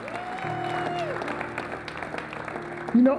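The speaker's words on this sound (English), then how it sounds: "Give God a hand clap." Congregation clapping in a church service, a steady wash of hand claps with a low sustained tone underneath, running throughout before a voice cuts in at the end.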